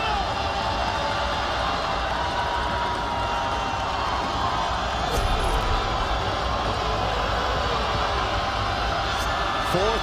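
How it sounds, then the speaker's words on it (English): A capacity stadium crowd at a college football semifinal between Harding and Kutztown roars steadily on fourth and goal, a dense sustained wash of cheering with a commentator talking over it. "Fourth and goal, and this capacity crowd making some noise."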